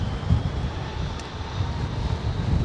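A Singapore Airlines Boeing 747 freighter on approach and landing at Heathrow gives off a steady, broad jet roar and rumble at moderate distance, with wind noise mixed in.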